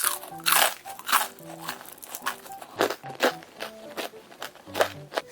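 Crisp, loud crunching bites into fried batter, repeated bursts about every half second with chewing in between, close to the listener, and no talk.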